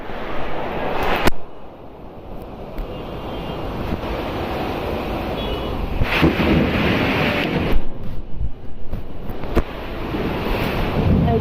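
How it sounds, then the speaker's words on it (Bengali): Heavy rain and gusting wind lash down during a Kalbaishakhi storm, a loud, continuous broadband roar that swells and dips in gusts throughout, with no voices. "আহা বৃষ্টি শান্তির বৃষ্টি এত গরমের ভিতরে শান্তির বৃষ্টি"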